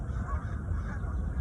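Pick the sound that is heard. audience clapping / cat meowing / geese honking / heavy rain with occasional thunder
geese honking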